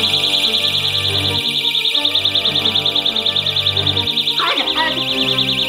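Personal security alarm buzzer shrieking with a loud, continuous warbling high-pitched tone close by, while a person talks urgently underneath and handling noises rattle in the background.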